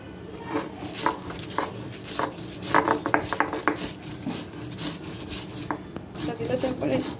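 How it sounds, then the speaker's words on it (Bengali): Garlic, dried chili and ginger being ground on a stone slab, a soft, close rubbing and rasping with scattered small clicks and knocks in an irregular rhythm, fairly quiet overall. "রসুন, সামান্য শুকনো লঙ্কা আর আদা নিয়ে নেওয়া হলো, পাটায় বেটে নেবো"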